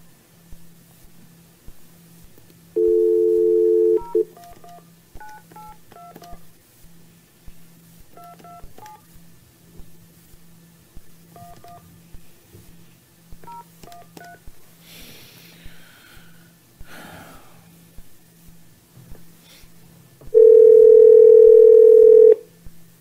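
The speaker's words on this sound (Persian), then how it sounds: "الان تلفن میکنم" Telephone dialing tones: a steady dial tone hum with a series of short keypad beeps in uneven clusters, and a longer sustained tone at the start and again near the end.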